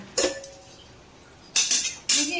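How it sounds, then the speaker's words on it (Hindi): A metal khurpi scrapes through potato and flat bean sabzi in a pan: one sharp scrape, a quiet pause, then a couple of quick metallic scrapes and clinks close by. "इस खुरपी से भूनना चाहिए, सब्जी टूटती नहीं है।"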